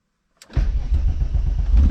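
A Volkswagen MK3 with a VR6 engine and freshly fitted spark plugs cranks briefly, then catches and settles into a loud, steady, close running rumble.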